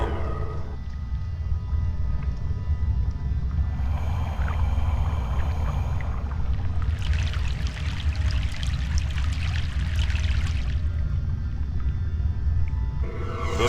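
A boat crosses a river in the video game Broken Sword 3: The Sleeping Dragon, a steady low rumble under sloshing, pouring water that swells midway with brighter splashing before easing back.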